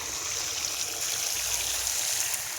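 Irrigation water runs steadily in a farm channel, trickling and splashing toward a berseem clover field beside wheat, a continuous close babble with no pauses.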